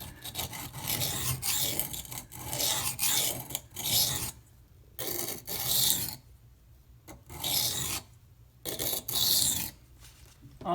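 A budget knife is stroked across a whetstone in bursts of harsh, raspy scraping, each pass a few seconds long with short quiet gaps between, close and alone with no talk.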